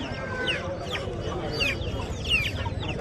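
Rooster and hens at a Saturday hen market in Mydukur, with repeated clucks and short squawks rising over a constant crowd murmur, and people talking nearby.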